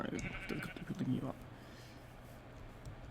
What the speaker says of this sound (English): And there's a sheep in the lake.